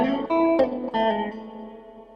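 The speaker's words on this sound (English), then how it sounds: "It's a lovely reverb." A guitar-like note passes through a reverb and delay circuit, a few plucked attacks whose tones ring on and fade in a long, washy echo tail.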